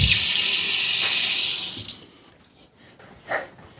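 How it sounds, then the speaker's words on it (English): Hands are rinsed of raw egg under a running kitchen tap, a loud, steady gush of water for about two seconds. The flow then stops, leaving faint drips and small handling sounds. "I'm going to rinse this raw egg off of my hands"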